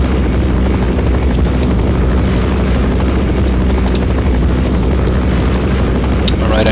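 A Black Hawk helicopter in Counter-Strike: Source makes a loud, constant rotor and engine roar that fills the whole stretch without pause.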